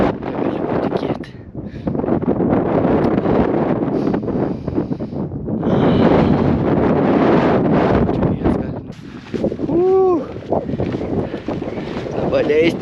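Strong, cold wind roars outdoors in rough gusts on a descent toward a small town, loud and close, with a person's voice breaking through at times.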